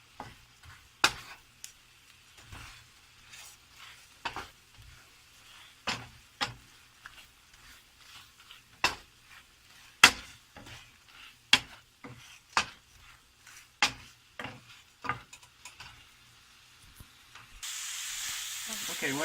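Beef fajitas with vegetables stirred in a skillet, a series of sharp scraping clacks from the utensil against the pan at irregular intervals, with a soft sizzle rising toward the end.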